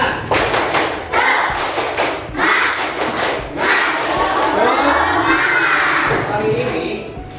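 A classroom of schoolchildren performs a clapping chant together, loud rhythmic claps and thumps mixed with chanted young voices filling a room.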